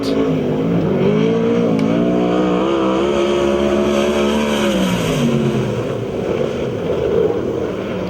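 A USAC/CRA sprint car on its qualifying lap at Perris, California, its engine holding a loud, steady high-revving drone before easing and then climbing again, with wind buffeting the microphone.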